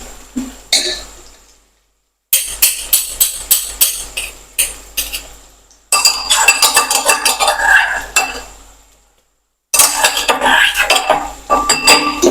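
A metal spoon stirs and scrapes ginger garlic paste with onions and potatoes in a pan for khara bhaat, making rhythmic clattering knocks in several bursts separated by silent gaps.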